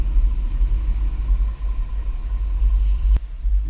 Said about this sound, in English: Here on our test course, we'll start by going through the slalom.